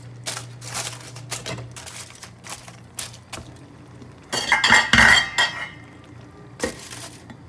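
A metal spoon scraping and clinking against a pot while stirring smoky jollof rice, repeated irregular scrapes and knocks, with a busier cluster of clatter midway and a low steady hum beneath.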